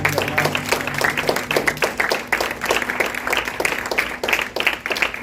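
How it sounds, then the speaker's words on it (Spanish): A church congregation claps together at the close of a Spanish-language worship service. The applause is steady and fairly dense, with sharp individual claps standing out, and no voices come through over it. "Dale un aplauso bien fuerte al Señor."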